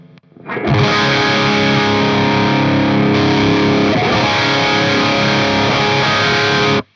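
A heavily distorted electric guitar chord rings out loud and sustained through a Synergy Syn20IR amp with an ENGL Savage module on its high-gain setting, thick with fuzz and hiss, then cuts off abruptly.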